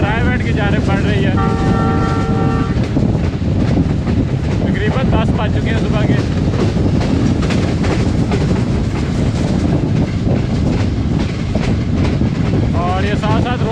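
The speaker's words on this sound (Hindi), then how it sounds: "ट्रेन हमारी प्रेमनगर ड्राईपोर्ट रेलवे स्टेशन से पास थ्रू हुई है और आहिस्ता आहिस्ता रायगढ़ की जानिब बढ़ रही है" Pak Business Express train hauled by a Chinese locomotive rolling along at steady speed on the Bahawalpur to Lahore run, with continuous loud rumble and rhythmic rail clatter throughout, a tonal horn-like sound early on, and someone talking over it.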